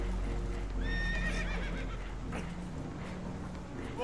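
Spooked horses whinny and neigh in a Red Dead Redemption 2 scene aboard a damaged boat taking on water, shrill cries and hoof clatter over a constant low rumble of water and engine.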